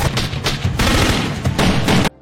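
Gunfire rattles through a film battle scene as enemies attack, with dense rapid bursts of shots and booms running loud and nearly continuous before cutting off abruptly.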